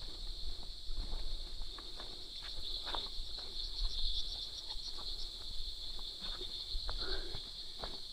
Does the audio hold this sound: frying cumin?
no